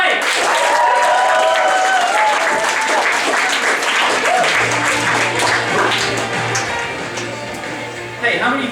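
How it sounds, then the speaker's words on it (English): Comedy club crowd at the County Comedy Club applauding loudly and steadily for an act, with a voice speaking over the clapping as it begins to taper off. "Keep that applause going for the wonderful Mr."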